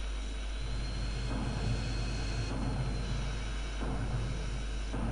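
A jet airplane roars steadily in the video game GTA San Andreas, a continuous loud engine drone with a broad hiss and no talk over it.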